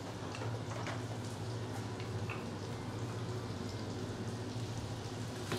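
Onions frying in melted butter in a pan give a steady, close crackling sizzle with fine ticking pops throughout, and no voices are heard.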